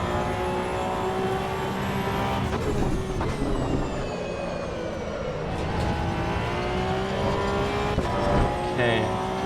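A Porsche GT3 Cup car racing around Oulton Park in the AC EVO racing game: a loud, steady engine drone from inside the car that rises and falls with gear changes, plus some tyre and road noise.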